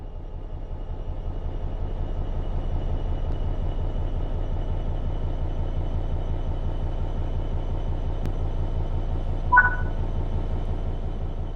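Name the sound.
electric train accelerating under power in Train Sim World 4 video game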